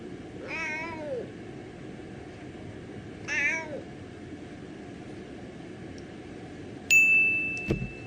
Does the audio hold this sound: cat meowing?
yes